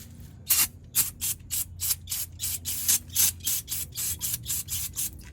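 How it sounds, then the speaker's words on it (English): Quick repeated bursts of spray cleaner hit an engine part during an oil change on a 2023 Volvo XC90, about a dozen short hissing pumps in an uneven rhythm, close to the mic with no talk. "I'm gonna get some cleaner, clean this here real quick."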